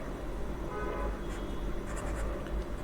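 Marker or chalk scratching numbers onto a board during a maths lesson, a continuous soft scraping with small irregular strokes under a low background hum.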